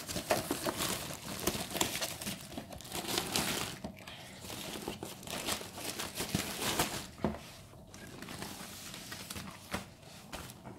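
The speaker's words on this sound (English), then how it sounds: "I'll take off the little wrap over here" Crinkly plastic wrap peeled and crumpled off a new HP 27-inch curved display monitor during unboxing, a busy run of close rustling and crackling with brief pauses, no talking.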